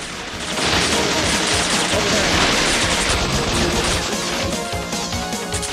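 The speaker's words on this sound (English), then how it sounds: "Machine gun." Dense, continuous machine gun fire with crashes and impacts in the run-and-gun video game Bot Vice, loud and unbroken throughout.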